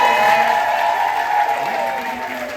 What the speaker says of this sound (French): on peut applaudir le public généralisé